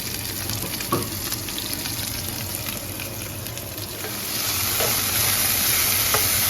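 Thin-sliced beef for Mongolian beef fries in a single layer in a hot pan, giving a loud, continuous sizzle with occasional stirring scrapes that grows a little louder toward the end, with no talk.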